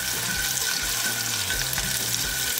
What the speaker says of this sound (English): Bubbling's perfectly fine.